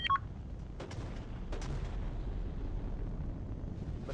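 Weapon fire striking the player's frigate in a 5v5 naval combat game, a steady rumbling barrage of low booms with a couple of sharper impacts, loud and continuous throughout.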